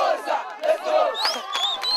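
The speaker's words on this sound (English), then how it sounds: "The tournament was supported by over 400 cheering young cricket fans" Crowd of over 400 young cricket fans cheering and shouting at an international cricket tournament in Malawi, a steady, excited mass of high voices close by with rising whoops.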